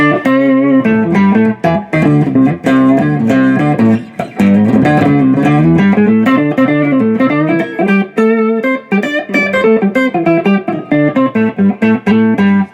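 Electric guitar played through a Boss Katana Artist MkII amp with its octaver effect on, a loud continuous run of thick, doubled notes with a deep low octave underneath, played alone with no talking.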